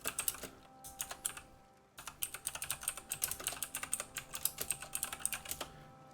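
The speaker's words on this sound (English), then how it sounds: "Sorry for the click-clacks, my keyboard can get quite loud." Loud, clattery computer keyboard typing during a Guild Wars 2 gaming session, rapid irregular bursts of close keystrokes, a short pause near two seconds, then a denser flurry of clicks with faint game audio underneath.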